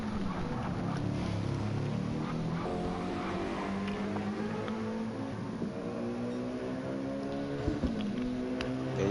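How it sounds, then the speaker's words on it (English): A GT3 race car engine revs hard through its gears in a 24-hour Nürburgring racing game, a steady drone rising in pitch again and again as each gear is run out, with no talk. "revving every gear out. Yeah, using every inch of the gearbox"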